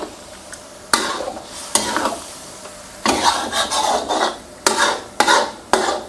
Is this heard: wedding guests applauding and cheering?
no